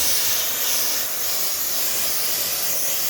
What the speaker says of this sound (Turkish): Koltuğumuzun aralarını buharlıyoruz.